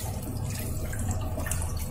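Tap water runs steadily into a sink while raw mangoes are washed for pickle, a continuous close splashing rush with no speech.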